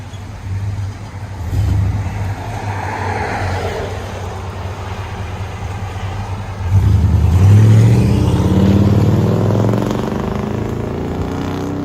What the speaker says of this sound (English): Chevy Silverado. There you go. MAGNAFLOW.